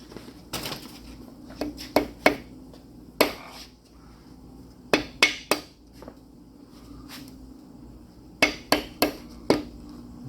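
A hammer taps a crankshaft into place in a Magnum 408 stroker engine, short clusters of sharp, ringing metal knocks, several quick blows at a time separated by pauses, close and fairly loud.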